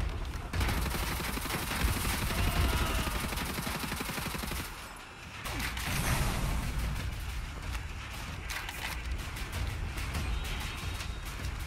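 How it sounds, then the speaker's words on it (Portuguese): Dual machine guns hammer out sustained rapid fire in Wolfenstein: The New Order, loud and continuous with a short lull around the middle before the barrage resumes. "Ok, dupla metralhadora,"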